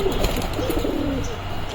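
Madrasi pigeons give a soft, low cooing nearby, a rolling murmur that swells and fades over a couple of seconds against a faint background hum.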